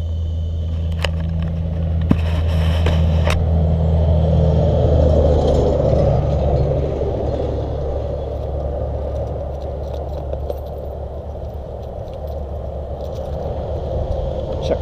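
A Traxxas Slash 4x4 RC truck running on a 3S battery drives steadily, its motor and drivetrain making a continuous whir with occasional scrapes and crackles from the surface, louder early on and easing off slightly.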